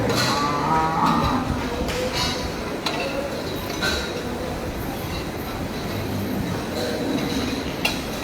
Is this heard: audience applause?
no